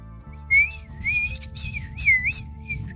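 A person whistles in short melodic swoops that rise and fall, imitating a creature's call, with quieter background noise underneath.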